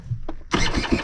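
A motorcycle engine cranks briefly in cold weather and then catches, bursting into a loud close rumble that carries through the end.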